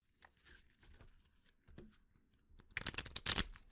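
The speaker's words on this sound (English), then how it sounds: "What I want you to do now is shuffle the deck a few times." A tarot card deck is shuffled, with soft papery riffles and taps at first, then a louder burst of fast flicking cards near the end, close and quiet with no talk.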